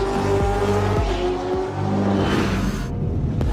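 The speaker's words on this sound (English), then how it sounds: "Ladies and gentlemen, start your engines." Race car engines roar loudly and close, with rising and falling revs, sharp passes and a brief cut near the end, no talk.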